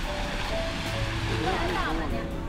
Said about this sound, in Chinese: 有喷水池哎。